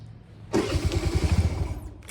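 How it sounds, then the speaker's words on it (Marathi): A car engine cranks and catches, sputtering into a rough rhythmic churn before settling toward idle. "गाडी चालू होते का नाही काय माहिती"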